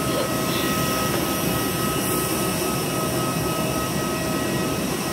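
Jet aircraft engine noise at an airport, a steady loud whine and rumble heard from inside an airplane, continuous and unbroken with no voices.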